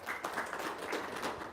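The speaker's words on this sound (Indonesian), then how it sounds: "Tepuk tangan dong." Audience at an Islamic religious talk giving a short round of applause, soft and somewhat distant, a brief patter of hands.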